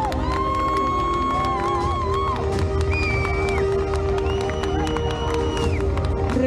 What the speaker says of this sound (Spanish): Que no decaigan los aplausos, todos son merecedores de los aplausos en esta gran final.